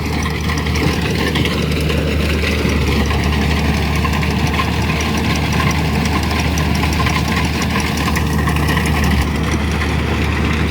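Kubota DC-70 combine harvester working a rice field in Laos: a loud, steady, close engine drone with low rumble and vibration that holds throughout, no speech.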